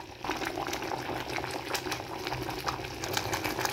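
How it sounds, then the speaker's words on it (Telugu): A pot of chickpea-flour curry for poori, made with besan mixed in water, bubbles at a steady, close boil with dense popping throughout. "ఇలా ఉడుకుతుంది కదా"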